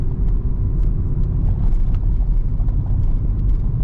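A VW Polo 1.2 TSI 90 hp with DSG gearbox pulls in third gear up a steep coastal hill in Avcılar. Its engine gives a loud, steady low drone mixed with road rumble, with no talk.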